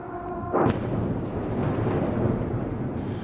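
A ballistic missile explosion over Kyiv, Ukraine: one sharp blast followed by a long, loud, rumbling roar that carries on to the end, with no speech.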